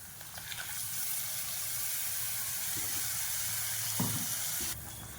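Ground masala poured into hot oil with fried chilli powder, sizzling steadily and close for several seconds, with a brief clink of a spoon near the end before the hiss drops off.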